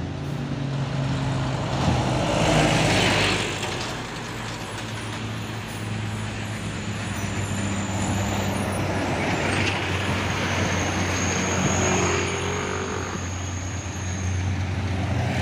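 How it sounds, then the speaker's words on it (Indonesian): A brown Puso truck passing in the right lane on a road, a loud, steady diesel engine drone with low hum and traffic rush, swelling and fading as vehicles pass, with faint high hisses like air brakes. "Dan ini juara truk Puso Coklat mengambil jalur sebelah kanan."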